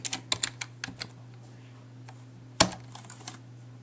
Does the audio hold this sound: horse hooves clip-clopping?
no